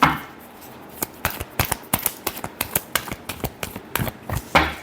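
Tarot cards being shuffled by hand, with a quick series of sharp, close riffling slaps falling in a fairly regular rhythm and building to a final louder burst.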